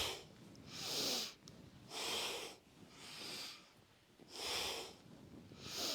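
Steady breathing during a yoga class, with five airy exhales about a second apart, close and soft, each swelling and fading in a slow, even rhythm with no talking.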